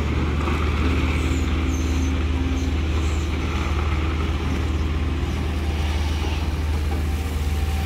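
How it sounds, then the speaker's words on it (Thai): A backhoe's four-cylinder engine runs at a soft, steady, low hum, continuous and fairly quiet with faint background noise and no talk. "เสียงนิ่มมากครับรุ่นนี้เสียงเบาครับ"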